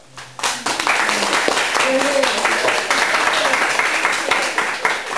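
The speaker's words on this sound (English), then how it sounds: "applause for Jean and all that she has done for our club" A club audience breaks into applause for a member: after a brief quiet start, dense, loud clapping from many hands swells and carries on steadily to the end, with some voices mixed in.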